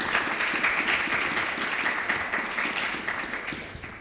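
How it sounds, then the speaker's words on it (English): A conference audience gives a sustained round of applause for the panelists of a keynote discussion on mining and critical minerals, dense clapping filling the hall and tapering slightly toward the end. "a round of applause for our panelists."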